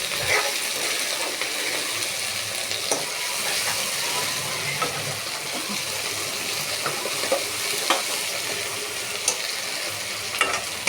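A dal tempering cooks in hot oil, giving a dense, constant sizzle and bubbling hiss up close, dotted with small crackles and pops, with nobody speaking.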